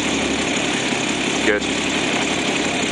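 A 1965 Ford Mustang coupe with a manual gearbox and a six-cylinder engine idles in a steady, close drone, with one short spoken word over it.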